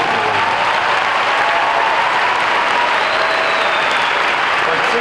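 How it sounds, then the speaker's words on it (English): A large audience at the 2015 University of Alaska Fairbanks graduation ceremony applauds the mothers on Mother's Day: dense, steady clapping that fills the hall loudly and evenly for the whole stretch, with no break. "I think we all owe a round of applause"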